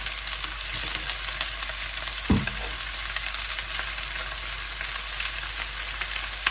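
Fresh wide rice noodles for pad see ew stir-frying in a pan with a little sesame oil, a constant crackling sizzle with one brief knock of a utensil against the pan.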